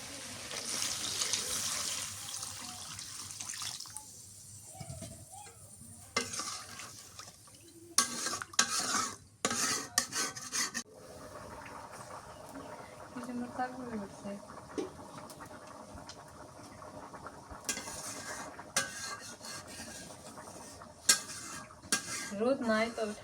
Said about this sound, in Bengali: এখন ঝোলের পানি দিয়ে দিই।